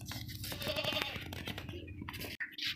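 A strong, heavy two-tooth castrated billy goat for sale as a sacrificial animal bleats loudly and nearby in a drawn-out call, amid shuffling handling noise, ending with a few shorter rustles.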